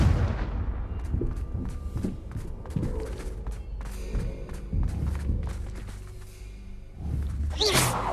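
Repeated Confringo blasting-spell explosions in the Hogwarts Legacy video game: loud, punchy booms scattered through the stretch, mixed with busy game effects and thumping movement sounds.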